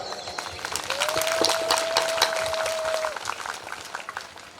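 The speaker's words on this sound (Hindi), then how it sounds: "जोरदार तालियां हो।" A crowd at a Shrimad Bhagavat Katha religious gathering breaks into steady, dense applause. It holds at an even level throughout, with a thin sustained whistle-like tone ringing over the middle stretch.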